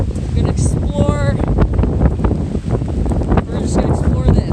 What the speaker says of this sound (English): Sorry if the volume is really bad because it is frickin' windy right now